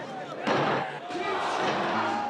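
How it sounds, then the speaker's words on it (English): A wrestling arena crowd bursts into a sudden loud roar with a sharp impact at the start, the surge swelling and holding as a dense wash of voices, with speech mixed in. "Pop means when that crowd pops, when they react."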